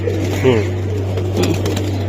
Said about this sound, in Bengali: উড়তির জন্য খুব ভালো কবুতর